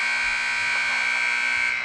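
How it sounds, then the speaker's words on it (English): A steady, loud electronic buzzer sounds at the end of the second period of a high school ice hockey game between Marlboro and Minnechaug, holding one unbroken tone for the whole stretch with no talk. "There's your buzzer after 2 periods."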